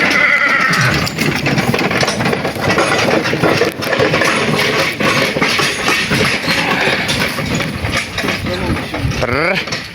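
Young Hutsul mares at a sale showing, with neighing and whinnies over a steady rumble of hoof movement and background noise; people talk nearby in the yard.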